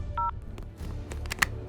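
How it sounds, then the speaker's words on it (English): A short electronic phone tone, a brief two-note beep, sounds in a Roblox movie scene, followed by a few faint clicks and small noises over a low background hum. "Did my phone buzz?"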